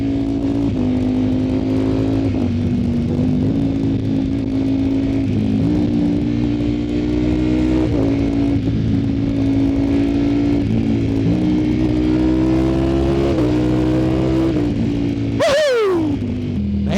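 A Ducati Streetfighter V2 motorcycle pulls hard through the gears with a quick shifter and auto blipper, its engine note climbing repeatedly with crisp, quick shifts, loud and close throughout, ending in a sharp rising burst.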